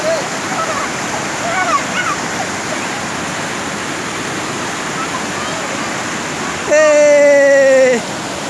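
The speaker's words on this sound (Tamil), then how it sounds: "பெரிய அருவியில் ஆயிருச்சு" Steady roar of a large waterfall, a constant rushing wash of water, briefly joined near the end by a loud rising tonal sound.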